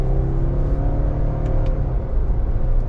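A 2018 Subaru Impreza Limited with a CVT accelerates, its engine a steady, loud rumble and whir from inside the cabin throughout, with no talking.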